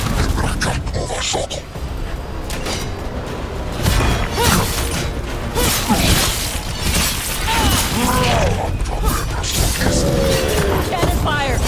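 Cannon fire in the video game Dragon Age: The Veilguard, heavy booms and crashing impacts with whooshes and mechanical clatter, loud and sustained throughout under game voices and music.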